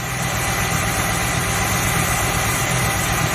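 A stock 1972 Dodge truck engine idles smoothly and steadily, a close, loud, even low rumble with a regular pulsing beat and no voices.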